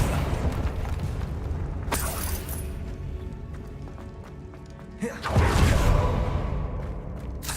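A Confringo blasting spell cast in Hogwarts Legacy, heard as two sharp bursting impacts with whooshing, crackling tails, separated by a quieter stretch of ambient rumble.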